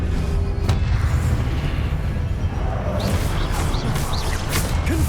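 A Confringo blasting spell explodes in the Hogwarts Legacy video game, a heavy rumbling boom with crashing debris and whooshes layered over continuous battle noise, loud and dense throughout with some swishing sweeps later.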